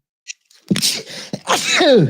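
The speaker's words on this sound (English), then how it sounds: "sneeze fit" A sharp sneeze bursts out after a brief intake of breath, followed by a gasping, voiced exhale close to the listener.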